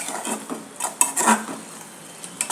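Masala powders, coriander and garam masala, fry in a pan to a light sizzle as a metal spoon clinks and scrapes against the pan in uneven bursts.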